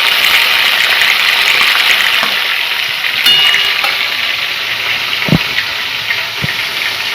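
Pieces of desi chicken, 500 grams, sizzle in hot oil while being browned for Bengali-style chicken chaap, a steady close hiss with a few brief knocks and clatters.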